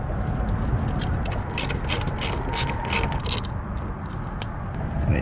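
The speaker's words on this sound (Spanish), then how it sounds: "Utilizamos un cubo número 10. Vamos a retirar estos 2 tornillos." A hand ratchet with a 10 mm socket loosens bumper screws on a 2020 Toyota Corolla, giving a quick run of close, crisp clicking bursts over a faint background hum.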